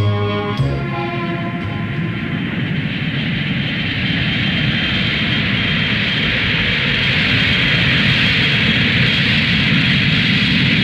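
A 1975 MAS airliner carrying a royal party departs for the Hajj, its engines roaring loud and steady in a broad, continuous jet-like rush that swells slightly and holds.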